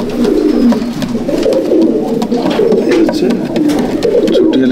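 A flock of small old-breed Madrasi pigeons at a Bauria, Howrah sale coos steadily up close, a thick rolling murmur of low throaty calls broken by light clicks and wing taps.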